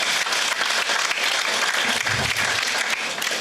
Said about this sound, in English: A big round of applause for all the three.